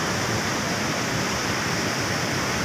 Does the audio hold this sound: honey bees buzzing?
no